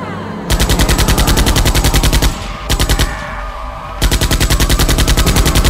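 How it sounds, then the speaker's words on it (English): Rapid automatic gunfire in a firefight against zombies in the My Talking Tom Friends video game, loud and close, in long bursts with two brief pauses. "What a firefight!"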